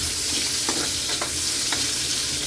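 Onions sauté with garlic in a hot pan, giving a dense, steady sizzle with a few soft stirring scrapes. The sound is close and uninterrupted, with no one talking.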